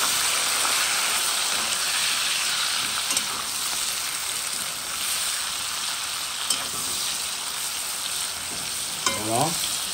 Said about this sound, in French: Je vais mettre les oignons. Je mets les oignons.